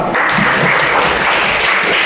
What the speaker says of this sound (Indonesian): Tepuk tangan mereka.